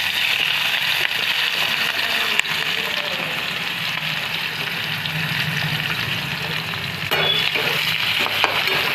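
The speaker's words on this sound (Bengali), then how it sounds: "তারপর আমি এই পেঁয়াজগুলো দিয়ে ভেজে নেব" Onions fry in hot oil seasoned with a bay leaf and panch phoron, giving a steady, loud, close sizzle with occasional stirring clicks throughout.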